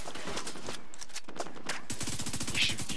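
Rapid bursts of gunfire crackle continuously, with a dense automatic rattle growing sharper toward the end, from combat in the shooter game Tom Clancy's The Division 2.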